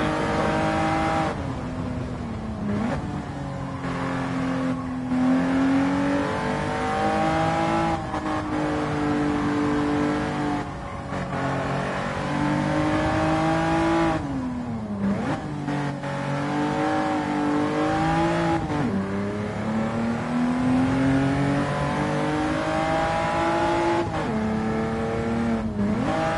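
Mazda RX-7 race car in Gran Turismo 7 revving hard with a steady, loud engine note that climbs and drops through repeated gear shifts, continuous and alone.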